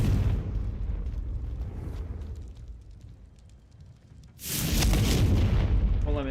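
A Confringo fire spell explosion in a Hogwarts video game booms loudly near the end after a rumbling low background, a single sustained blast filling the last couple of seconds.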